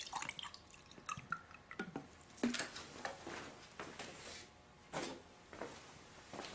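Vapor distilled bottled water poured into a small TDS meter cup, with quiet trickles, drips and plastic handling clicks in short bursts, close and faint.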